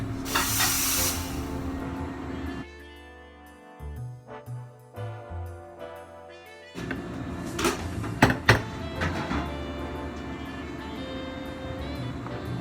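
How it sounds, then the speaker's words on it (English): Coffee shop espresso machine steam wand being purged, a loud sharp hiss at the start, then clunks and knocks of equipment, followed by another stretch of hissing and clattering with faint background voices. "you also want to make sure that you purge your steam wand after you're done using it"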